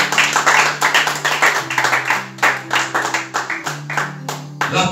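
A church congregation claps along in rhythm, loud and close, while a low sustained tone from music plays beneath the sharp, steady beats.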